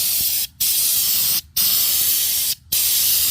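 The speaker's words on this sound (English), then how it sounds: "This is how fast you can spray it." Steady, loud spray hiss from an undercoating spray gun applying Fluid Film at full speed, cut by three brief pauses as the trigger is released and squeezed again.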